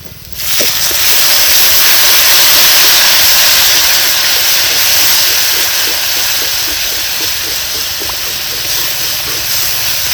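Water poured into hot roasted masala for a village-style bombil (Bombay duck) curry bursts into a loud, steady steaming hiss that holds for the full ten seconds, with faint bubbling beneath and no voices.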